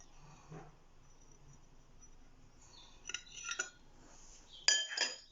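A metal spoon scrapes and clinks against a bowl while fishing a stray piece of eggshell out of cracked eggs for an omelette, faint and sparse at first, then a few sharper clinks near the end.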